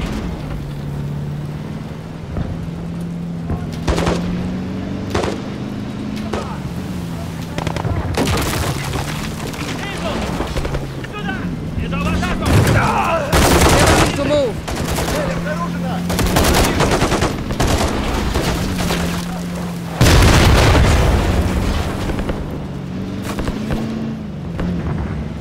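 Enemy machine-gun fire and explosions in Call of Duty: Modern Warfare III crackle in repeated loud bursts over a low droning engine hum, with heavy booms hitting midway and near the end.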